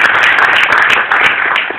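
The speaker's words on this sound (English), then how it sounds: "let's give them a round of applause" An audience claps together at a harbor open house, producing a loud, dense, sustained patter of hands with no voices over it.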